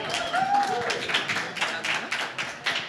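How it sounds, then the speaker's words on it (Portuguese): An audience claps and applauds to welcome someone speaker at a business management talk, with dense steady clapping throughout and a short whoop or whistle near the start. "Com a salva de palmas,"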